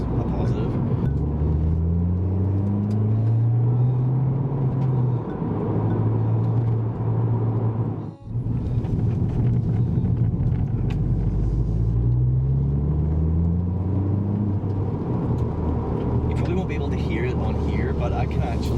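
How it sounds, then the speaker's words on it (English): A Ford Fiesta ST with its Symposer removed accelerates twice, its engine note climbing through the revs on each pull as the turbo spools up. The sound is fairly loud over a steady rumble inside the car. "But I can actually hear the turbo spooling up now, which I wasn't really able to hear before"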